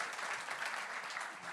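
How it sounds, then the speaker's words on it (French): Steady applause from a seated audience at a family business forum in Lyon, honouring a winemaker's generosity; dense, even clapping with no individual claps standing out, continuous throughout. "j'aimerais que, rien que pour ça, vous applaudissiez Monsieur Chave"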